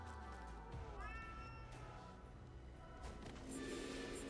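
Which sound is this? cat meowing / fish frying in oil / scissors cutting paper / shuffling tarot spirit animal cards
cat meowing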